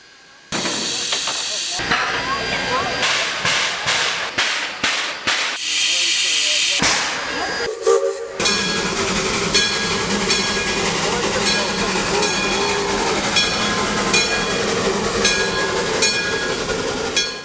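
Restored steam locomotive, once retired on a Hawaiian plantation, running on a heritage railroad with a sharp whistle blast and continuous hissing and chuffing, loud and close, with bursts of steam noise throughout.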